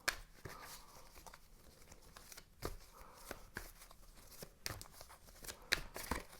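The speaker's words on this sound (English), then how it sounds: "But I'm gonna shuffle a bit more." Tarot cards being shuffled by hand, a run of soft papery riffles and slaps with sharper card snaps scattered through, close and fairly quiet, with no talking.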